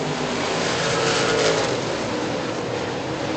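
Late model race cars roar around an oval track as the field heads into turn one, a dense, steady wall of engine noise at close range with no break in the sound.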